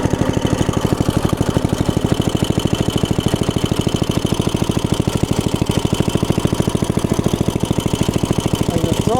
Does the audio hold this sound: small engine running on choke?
yes